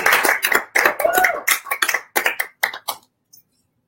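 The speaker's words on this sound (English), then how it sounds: "With rousing applause, please help me welcome the wonderful, fabulous Steve Olsher." A small audience applauds to welcome a speaker onto the stage at a business event, with rhythmic, fairly close clapping in distinct bursts that thins out and stops after about three seconds.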